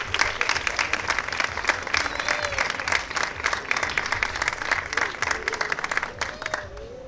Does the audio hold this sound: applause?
yes